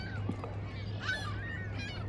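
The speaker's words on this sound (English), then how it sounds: "Lovely visit with all these birds." Geese honk a few times at a distance at a Toronto bird sanctuary by the lakeshore, over a steady low background hum, the calls faint and overlapping.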